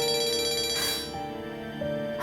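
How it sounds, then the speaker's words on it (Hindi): A phone ringtone plays for an incoming call, a steady repeating electronic melody that sounds clearly from start to finish with no voices over it. "हाँ, दुआ का फोन है।"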